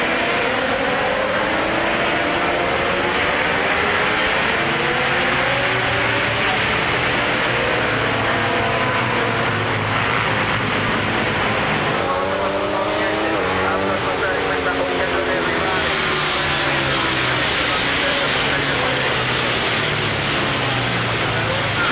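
Ducati superbikes racing through the opening lap of a 200-mile endurance race at the small Vallelunga circuit, a dense pack of engines droning and whining continuously at a steady loud level, with commentary talking over it.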